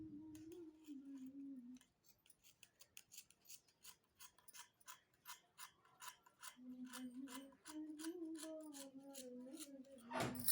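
A sewing machine stitches a blouse seam with a fast, regular run of mechanical clicks. A humming motor tone starts and stops, with a brief pause before the stitching picks up again, close and clear.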